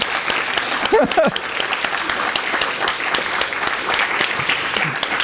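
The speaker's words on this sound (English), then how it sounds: "we have to applaud Steve to get all these writers here at the same time in this room" An audience at a literary evening with a gathering of writers breaks into sustained applause, a steady wash of many hands clapping at close range, with a few brief voices mixed in.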